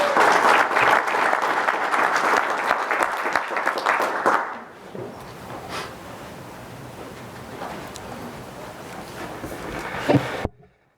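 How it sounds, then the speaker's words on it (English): An audience at a tribal council meeting claps in a loud burst that fades into lighter scattered clapping with room noise, ending in a brief louder bump before silence. "let's give them all one more big round of applause."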